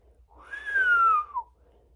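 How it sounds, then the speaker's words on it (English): A person gives a single low, incredulous whistle, a clear sliding tone that dips in pitch and lasts about a second against near silence. "Taika let out an incredulous low whistle."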